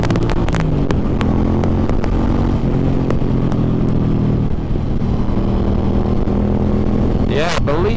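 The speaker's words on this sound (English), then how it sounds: "I just did a full throttle pull right there" Suzuki M50 cruiser motorcycle pulled hard at full throttle, a loud, close engine drone that holds steady under heavy wind buffeting, with a brief voice near the end.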